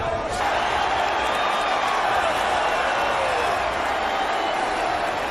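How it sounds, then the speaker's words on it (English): A boxing arena crowd at the Jake Paul versus Anderson Silva fight roars in a steady, dense wash of cheering and excited noise, sustained loudly throughout without a break. "Crowd gets excited."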